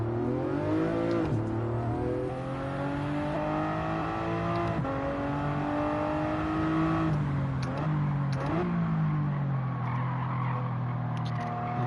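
Racing video game car engine running steadily through a lap, handling like a road car, its harmonic drone rising and falling with gear changes and throttle lifts, loud and continuous without talk.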